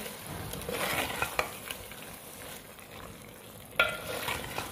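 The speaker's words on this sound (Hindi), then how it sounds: "क्रीम और दूध डालने के बाद अब मैं इसके अंदर डाल रही हूँ हरी मिर्चें" Green chillies go into a creamy chicken handi simmering with cream and milk, with a close, lively sizzle and repeated stirring scrapes against the pan.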